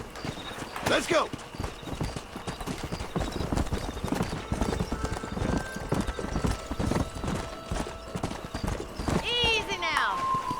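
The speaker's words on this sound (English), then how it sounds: "Let's hope I can remember how to ride a horse in this game." Horse hooves clip-clop at a gallop in the Red Dead Redemption video game, steady through most of the stretch, with a loud neigh near the end; game music and talking run underneath.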